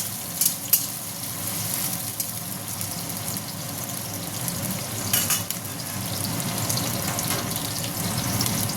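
Sliced onions for chow mein sizzle steadily in hot oil, a dense continuous frying hiss with occasional louder spits and stirring scrapes, close and alone without talk.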